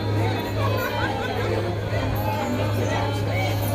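A crowd at Baba Budhan Shah's shrine fills the air with a steady babble of many overlapping voices and general hubbub, with a constant low hum underneath.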